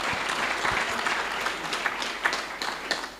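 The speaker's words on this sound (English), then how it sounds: "Give yourselves a big round of applause" Staff and students at a university event for a U.S. ambassador's visit give a round of applause, a dense, continuous patter of many hands clapping at moderate level, heard alone.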